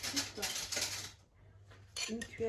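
A tablespoon scoops ground almonds for an almond apple tart, making light metallic clinks and taps of spoon against bowl in two short bursts with a quiet gap between.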